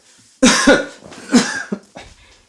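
Several harsh coughs in quick bursts from an older man with a persistent cough, close and loud, with short pauses between fits.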